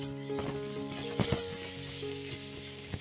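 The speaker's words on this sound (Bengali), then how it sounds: "এবারে প্রথমেই ভেজে নেব ছোলা।" Soaked chickpeas frying in a little salted oil in a wok, giving a soft, even sizzle with a few sharper pops and clinks as they are tossed, heard close and fairly quiet.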